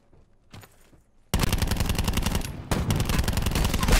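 Rapid automatic gunfire in an online shooter video game, loud and sustained, with sustained bursts of fire after a brief faint shot.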